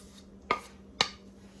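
Salted mackerel pieces dropped into a pot for coconut-cream run down: two distinct clanking knocks about half a second apart over a low steady hum, no talking.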